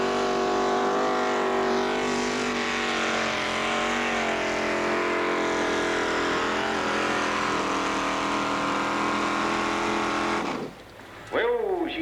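A pulling tractor's engine roars loudly and continuously at the 1986 Colbinabbin tractor pull, its pitch wavering as it strains, with an announcer talking over it before the engine note drops near the end.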